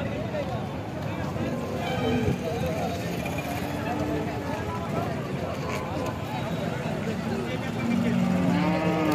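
Dairy cows at a busy open-air cattle market in Alephata, with low moos rising from constant crowd chatter and livestock bustle, moderately distant.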